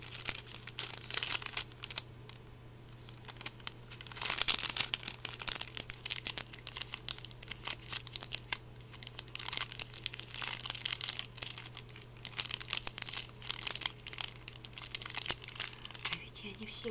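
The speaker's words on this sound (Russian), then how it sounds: "вот пакетиками пошуршать" Snack packets rustled and crinkled close to the microphone during an eating session, in dense, irregular crackling bursts that continue throughout over a low steady hum.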